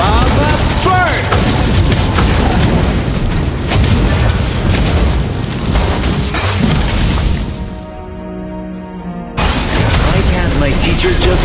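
Valir's Lava Burst skill going off in Mobile Legends: Bang Bang, a string of loud booming, crashing blasts over dense game effects and voice callouts, dipping briefly before the heavy impacts resume.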